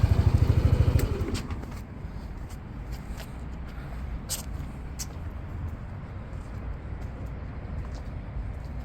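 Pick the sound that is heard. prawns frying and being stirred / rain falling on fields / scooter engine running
scooter engine running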